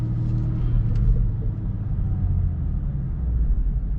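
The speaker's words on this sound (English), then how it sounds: "I don't know if you guys could hear my exhaust" Low, steady rumble of a BMW 440i with a B58 engine and stock exhaust crawling in city traffic, a continuous deep drone with a brief faint click early on.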